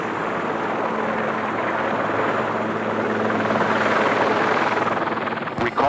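Helicopter main rotor thrums steadily in flight, a loud continuous droning whir that holds throughout before a brief clatter at the end.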